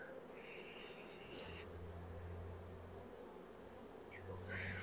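Honey bees buzz around an open hive while frames are inspected during a spring swarm-control split, a steady dense hum with a brighter, hissing layer that fades midway and returns near the end.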